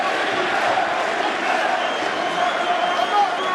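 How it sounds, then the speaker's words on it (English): The Boston crowd at UFC 220 roars steadily for heavyweight champion Stipe Miocic in his fight against Francis Ngannou, a dense, sustained arena cheer with a few shouts rising above the din. "Boston crowd getting behind the champion Stipe Miocic, trying to slay the dragon tonight."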